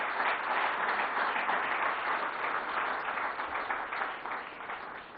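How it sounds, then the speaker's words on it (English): Audience applause for government ministers at an evening awards-event panel discussion, a steady wash of clapping at moderate distance that holds evenly for several seconds before easing slightly at the end. "Ladies and gentlemen, join me in giving all the ministers a round of applause"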